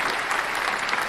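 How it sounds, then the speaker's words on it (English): Brief burst of steady crowd applause and clapping, continuous and fairly loud throughout. "Round of applause for rocket penis."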